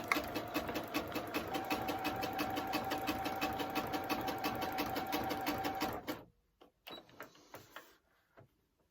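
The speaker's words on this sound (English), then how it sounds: "all we're going to do now is stitch round the outline of the applique" A sewing machine stitches around the outline of a round appliqué, running fast and steady with a rapid regular needle rhythm for about six seconds. After that come a few short bursts of stitching and stops, all close up.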